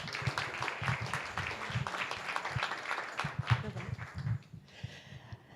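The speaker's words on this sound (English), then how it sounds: "let's give them a round of applause." An audience at a Nerd Nite talk event claps steadily for several seconds, a dense patter of many hands that tapers off near the end, with faint voices mixed in.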